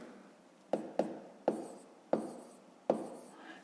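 A pen writes down the sum of a fifth-grade math exercise with five crisp, close scratches spaced about half a second apart against quiet background hiss.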